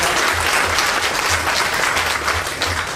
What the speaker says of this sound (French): je demande qu'on l'applaudisse